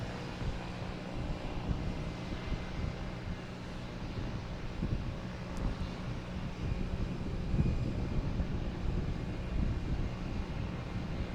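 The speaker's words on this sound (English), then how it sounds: "Next takeoff is a Embraer Phenom 300 heading to Martha's Vineyard." Embraer Phenom 300 business jet taking off at Boston Logan Airport, a steady broad engine roar and rumble at moderate distance with some wind noise, swelling slightly toward the end.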